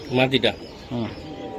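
Racing Giribaz pigeons give a couple of short, close cooing calls, one after another, over a low background.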